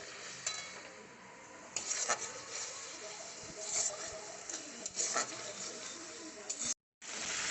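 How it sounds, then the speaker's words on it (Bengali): Spices with a splash of water sizzling softly in a pan as they are stirred while cooking a vegetarian chickpea curry with asafoetida, with steady frying hiss and occasional scrapes of the spoon, close and moderately quiet. "মশলার বাটিটা ধুয়ে একটুখানি জল দিয়ে মশলাটাকে কষে নিচ্ছি।"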